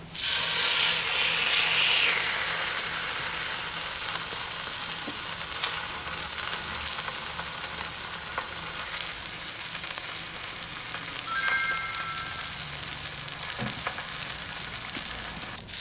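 Wagyu sirloin steak sizzles steadily on a thin teppanyaki iron plate heated by charcoal, a loud continuous frying hiss with occasional pops and scraping, cooked slowly over the cooler side.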